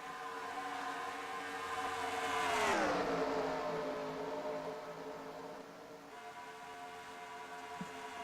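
Pack of race cars in a NASCAR T-Mobile Cup series game race at Texas, a layered engine drone that rises and swoops down in pitch as the cars sweep past, then settles into a steady hum.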